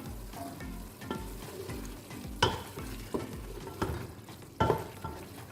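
Mutton keema with fried capsicum being stirred in a pan, a spatula scraping in several distinct strokes over a steady low sizzle, with no one talking.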